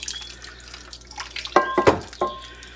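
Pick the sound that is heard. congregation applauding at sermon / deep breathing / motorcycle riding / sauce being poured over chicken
sauce being poured over chicken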